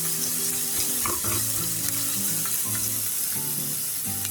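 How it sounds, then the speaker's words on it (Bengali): Meat balls for a Bangladeshi meat vorta sizzle and fry in a pan, a steady crackling hiss with scraping stirs throughout and a low hum of tones underneath. "আমি আরেকটি ভালো করে ভেজে নেব।"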